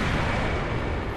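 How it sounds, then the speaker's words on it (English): A blue-cloaked enemy in Dark Souls casts a force miracle, producing a loud, sustained rumbling blast that fills the whole moment with dense, roaring noise and no talk. "So that's what that explosion is that he keeps doing. That is a force attack."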